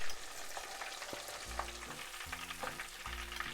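Breaded calamari rings, shrimp and fish deep-fry in oil at about 360 degrees, making a dense, crackling bubbling hiss, while low humming tones repeat underneath.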